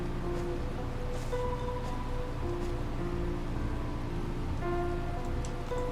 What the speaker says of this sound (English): Didn't figure out how to stop the rain yet?